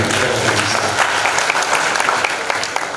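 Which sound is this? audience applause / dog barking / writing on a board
audience applause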